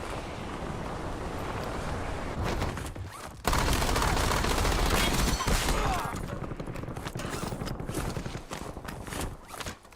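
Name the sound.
gunfire in the video game Warzone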